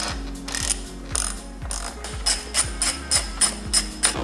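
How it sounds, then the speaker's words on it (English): A ratchet wrench clicks repeatedly while backing out bolts from a BMW M3 steering wheel trim, giving close, sharp ratcheting strokes in a quickening rhythm. "get those 3 bolts, pull this whole part out"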